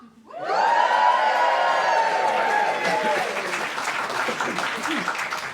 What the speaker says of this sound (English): Give us a cheer if you are.